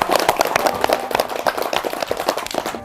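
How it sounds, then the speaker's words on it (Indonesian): A group of schoolchildren and adults at an Islamic school applaud together, producing a dense, steady patter of many hands clapping throughout with no talking. "Tepuk tangan."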